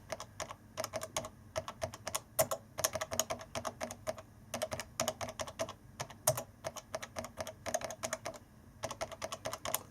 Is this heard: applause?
no